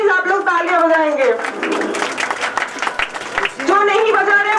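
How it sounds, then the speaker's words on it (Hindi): An audience claps at a school event welcoming new trustees. A burst of dense applause fills the middle of the clip, with a voice speaking over the start and end. "प्लीज सब लोग बजाएंगे तालियां"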